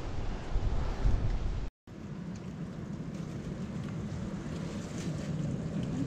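Strong wind roars steadily over the microphone on a mountain trek between Khopra and Khayer Lake, a loud, dense rumble with a brief cut-out partway through and no voices.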